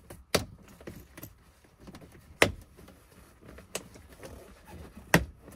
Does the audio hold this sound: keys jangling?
yes